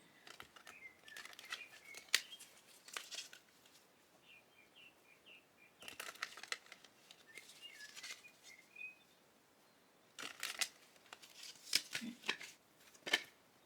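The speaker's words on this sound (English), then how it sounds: "So I'm just going to shuffle these cards" Quiet riffling and snapping of a deck of tarot cards being shuffled in several bursts, with pauses between, close but soft.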